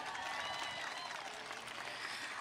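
Outdoor commencement crowd at American River College's 2022 ceremony clapping, a diffuse, fairly distant wash of applause with a faint voice mixed in.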